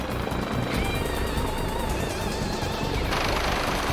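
A rescue helicopter flying over a foggy, windy coastline produces a loud, continuous roar of rotor wash and wind with thin whistling tones riding on top and a brief shift in texture near the end.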